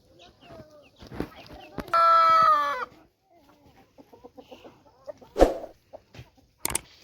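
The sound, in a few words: desi free-range chickens released to graze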